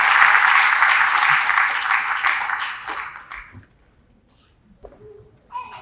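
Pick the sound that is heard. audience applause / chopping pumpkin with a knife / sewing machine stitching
audience applause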